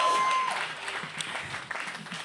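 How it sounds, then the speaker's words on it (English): An audience at a poetry night at the Ake Festival gives a brief, lively burst of applause for the poets, dense clapping that slowly tapers off over a couple of seconds. "can we give a round of applause to all the incredible poets who came out tonight?"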